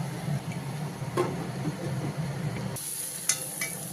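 Water poured into a pan of sizzling soybean masala, a steady frying crackle that flares into a brighter hiss near the end as the liquid hits the hot oil and spices.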